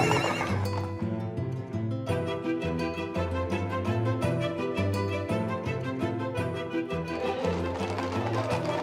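Horses whinny loudly and repeatedly at a horse blessing parade while hooves clop in a steady rhythm underneath, the whole scene busy and close.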